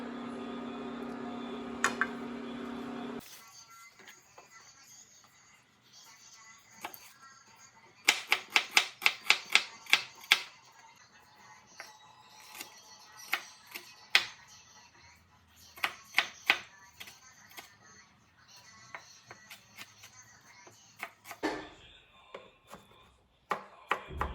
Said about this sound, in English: after that I'm going to be cutting into small pieces.